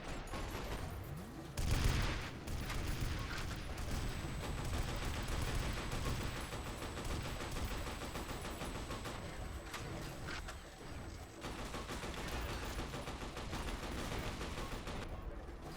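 Gunfire in the shooter game F.E.A.R.: Perseus Mandate, dense rapid bursts and overlapping shots that run continuously, with a sharp loud burst near the start.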